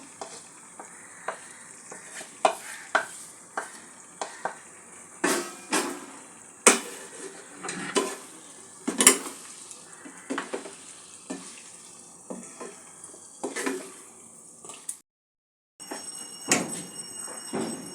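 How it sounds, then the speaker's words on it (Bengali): Mutton pieces are sautéed with onions and spices in a pan. Sharp scraping and stirring strokes land irregularly over a soft sizzle for a long stretch, with a brief pause near the end and no talking. "মাংসটা দিয়ে সমস্ত উপকরণের সঙ্গে ভালো করে কষে নেব"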